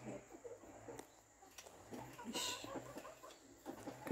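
Chickens and a rooster near a grass nest give soft, scattered clucks and brief calls, fairly close but quiet, with light rustling between them.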